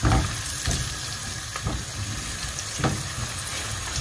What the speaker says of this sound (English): So these onions are going to cook for just one minute